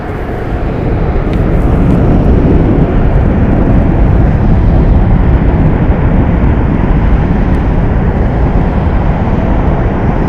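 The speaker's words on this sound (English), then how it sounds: "Our flight making a left-hand bank over the Las Vegas Strip" A passenger airplane banks left over the Las Vegas Strip, its cabin filled with a loud, steady, close engine roar that holds unchanged throughout.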